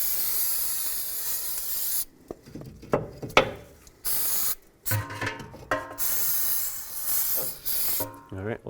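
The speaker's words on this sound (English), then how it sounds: "Now I'm going to clean this off with some brake parts cleaner." Brake parts cleaner blasts onto the splines of a 2003-2007 Nissan Murano axle in a long aerosol hiss, followed by several short, broken spray bursts with clicks and handling noises between them.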